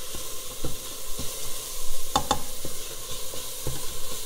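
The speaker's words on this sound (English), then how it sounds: "Make sure you are stirring it as it's cooking." Chicken noodle soup ingredients sizzle in a pot while being stirred, with a steady frying hiss and regular scraping strokes at close range, plus a sharp pair of clinks midway.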